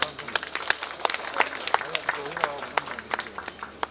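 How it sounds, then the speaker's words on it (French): Scattered hand clapping from an audience at an airport control tower inauguration in the Comoros, moderately close, with voices murmuring and talking through the applause. "c'est grâce à M. Moussa que je vous demande de l'applaudir."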